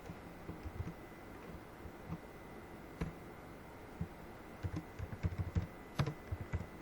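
Keystrokes on a computer keyboard while C code is being written, a quiet run of uneven clicks with small bursts and pauses, soft and close against low room noise.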